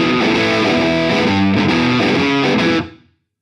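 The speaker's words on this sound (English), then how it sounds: "Drop the gain down a bit, you can get that kind of squawky." An electric guitar plays chords through a Diezel VH Micro head with gain lowered, a lightly overdriven, squawky tone, loud and mid-heavy, before cutting off abruptly to silence.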